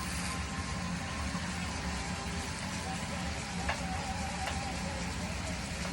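Onions, asparagus and Brussels sprouts sizzle steadily in a hot pan, a close, continuous frying hiss with faint scrapes of stirring running through it.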